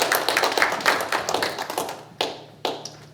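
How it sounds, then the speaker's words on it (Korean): A small gathering at a Yonsei University alumni prayer breakfast in LA claps in a quick, uneven patter that fades out, followed by two louder isolated claps near the end. "박수로"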